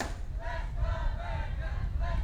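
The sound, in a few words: crowd chanting Let's Go Bearcat at a school soccer match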